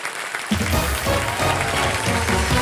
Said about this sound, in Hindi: आइए मेरे साथ जोरदार तालियां इन तीनों के लिए